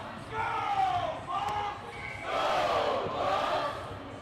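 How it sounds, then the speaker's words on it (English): Crowd noise from spectators at a college club ice hockey game between Colorado State and Colorado, a loud sustained roar that swells and dips, rising again toward the end, with an announcer's voice over it. "You can hear the crowd. They are into it."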